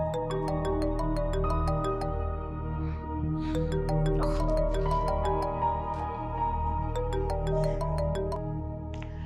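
A phone ringtone plays as an outgoing call connects, a repeating melodic electronic tune with steady notes, clear and alone without talk.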